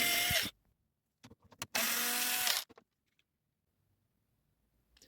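Two short bursts of a small electric screwdriver backing out the cover screws of a Realistic SCT-42 cassette deck, separated by a few light clicks and handling taps, then near silence.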